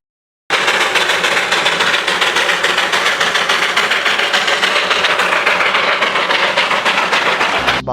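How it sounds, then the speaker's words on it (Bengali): Darjeeling toy train running around Batasia Loop: a loud, close, continuous rumble with a steady rapid pulsing rhythm that starts abruptly and holds throughout. "বাতাসিয়া লুপ ঘুরতে ঘুরতে আমাদের সামনে চলে আসলো দুটি টয় ট্রেন।"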